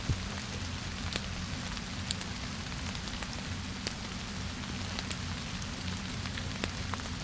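Rain falls outdoors in winter during an overnight survival test with no shelter: a steady, even patter with scattered sharper drops hitting nearby surfaces, moderately close, and no voices.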